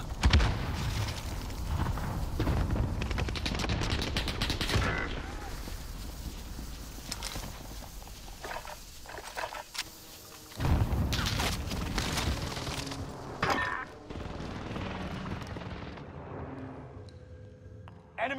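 Gunfire and explosions in the Call of Duty Modern Warfare video game form loud bursts and heavy booms that come and go in dense waves, with chaotic battle noise between them.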